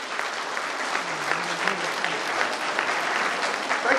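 Audience clapping at a Science Day event at Basara IIIT, a sustained wash of many hands applauding together at steady volume.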